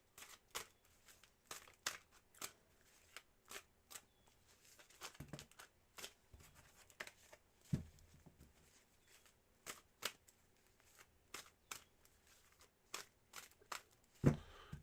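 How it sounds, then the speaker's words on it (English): Tarot cards being shuffled during a live reading, a long run of quiet, crisp riffling snaps and slides repeating at an uneven rhythm, close and soft, with no voices. "And Jing, I'm going to start to cleanse your cards off for the love reading for what's coming for you in love."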